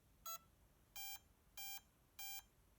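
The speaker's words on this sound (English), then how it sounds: "When we hear 2 beeps" An RC boat's electronic speed controller gives four short electronic beeps, faint and evenly spaced, the first one briefer than the rest, against a quiet background.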